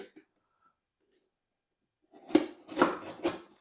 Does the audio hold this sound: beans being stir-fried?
no